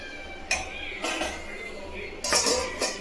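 Rice and bitter gourd curry being served onto a plate at home, with a few scattered clinks and scrapes of a spoon against dishes at close range, fairly quiet and irregular.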